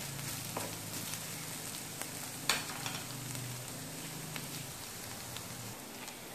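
Faint, steady sizzling of garlic and ginger frying in a pan, with occasional small crackles and a soft scrape of stirring.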